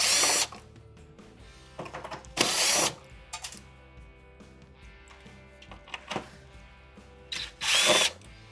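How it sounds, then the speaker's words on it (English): A power drill backs out quarter-inch screws from the main control board of a Frigidaire stove. Several short, loud, close whirring bursts are separated by quieter pauses, with no talk. "next step is to remove the 4 1/4-inch screws"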